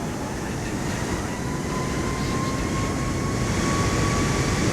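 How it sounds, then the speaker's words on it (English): Aircraft engines in the Flight Simulator 2024 video game roar steadily and loudly as the throttle is pushed up, a dense continuous rumble with a faint tone creeping upward and no one talking. "I love hearing the roar of those engines throttle on."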